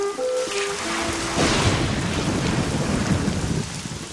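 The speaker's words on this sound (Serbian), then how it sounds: "Kiša, vetar," A storm of heavy rain and wind roars steadily and loudly across the countryside, with a low rumble underneath and no voices.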